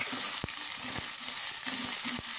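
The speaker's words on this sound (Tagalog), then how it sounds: "nilagyan ko na ng oil ang aking mantika. Sandali guys. Ito sa inyo. Isutay ko na ang aking onions at garlic." Onions and garlic sizzle steadily in hot oil in a pan, a constant bright frying hiss broken by a few sharp taps of a utensil against the pan, close up with no voices.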